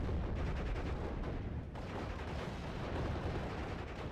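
Artillery guns fire in Steel Division Normandy 44 during a US Normandy hedgerow battle, a dense, continuous rumble of booms and blasts at steady loudness across the whole stretch, with no voices.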